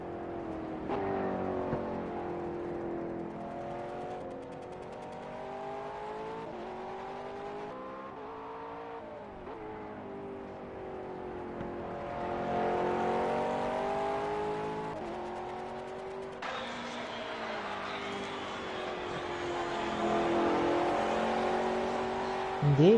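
GT3 race cars at Laguna Seca, with an engine whining and revving through rising and falling gear changes, growing louder and harsher as the car approaches, and faint commentary voices underneath.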